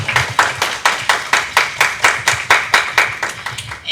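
Sharp, evenly paced hand claps in a quick steady rhythm, roughly a dozen and a half close, loud strikes in a row without any talk over them.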